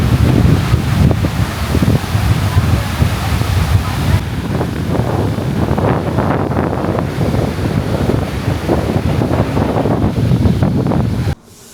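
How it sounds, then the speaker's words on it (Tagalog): Strong wind on a beach in Boracay buffets the microphone in a continuous, rumbling roar, with surf-like washes underneath and faint voices now and then. "Hangin ah."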